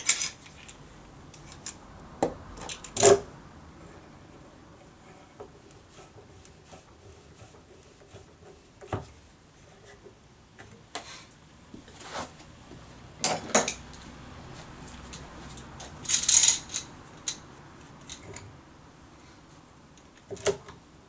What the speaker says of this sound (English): Now what I normally do is just use these F clamps.